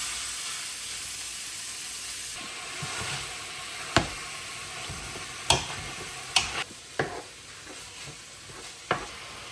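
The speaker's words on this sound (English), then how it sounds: "Now I've got my pan getting hot. I'm going to add the sausage," Sausage browning in a hot pan, a steady close sizzle and hiss with occasional sharp taps and scrapes of stirring, no voices.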